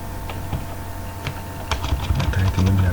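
Typing on a computer keyboard to enter a form title, close and clear irregular key clacks that speed into a quicker burst toward the end.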